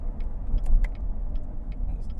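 A 2014 Corvette Stingray 3LT Z51 with about 455 to 460 horsepower drives along with a steady, deep engine drone and road rumble, close inside the cabin, with no talk.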